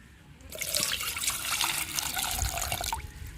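Water poured from a tap to soak tamarind for tamarind curry, a close, steady gush lasting about two and a half seconds before it stops.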